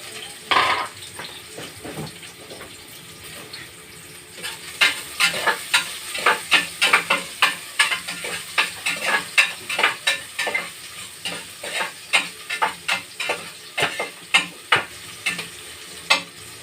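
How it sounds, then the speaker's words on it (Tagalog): Onion, garlic and ginger sauté in a pan, sizzling steadily under a rhythmic run of sharp scrapes and clacks as a utensil stirs against the metal, close and fairly loud with no talk. "Papupulahin lang natin yung ating mga ilagay na sibuyas, bawang, at yung, siyempre, luya"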